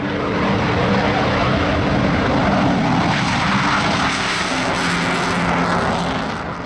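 A Eurofighter Typhoon fighter jet passes with a loud, sustained engine roar that holds steady throughout and tails off slightly at the end.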